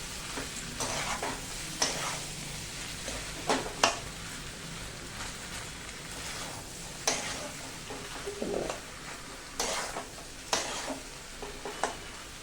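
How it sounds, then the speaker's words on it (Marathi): Dry potato bhaji for masala dosa is stirred in a pan over a soft continuous sizzle, with repeated scraping strokes of a spoon against the metal at an uneven rhythm, close and clear. "भाजी मस्त हलवून घ्यायची"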